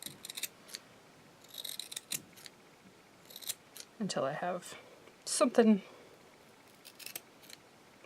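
Several short, crisp snips of scissors trimming kabuki makeup brush bristles, scattered through the clip, with brief bursts of talk in between.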